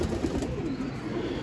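A racing pigeon cooing in a loft, a soft low murmuring coo running continuously through the short moment, close by and fairly quiet.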